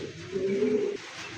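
A pigeon at a pigeon farm gives a single low, rolling coo, close and clear over a light background hum.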